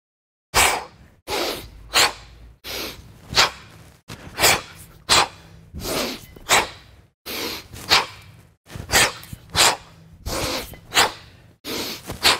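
Forceful breaths are pushed out in a steady rhythm, about a dozen sharp exhalations with short pauses, loud and close to the listener.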